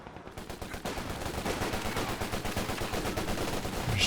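Sustained machine gun fire in the World War II strategy game Company of Heroes 2, a rapid continuous burst of evenly spaced shots, loud and steady throughout with a dense rattling texture.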